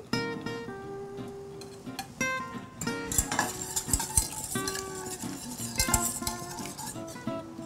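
A utensil clinks and scrapes against a pan as cream is stirred into a butter sauce, with repeated close metallic taps and ringing chimes over a soft background.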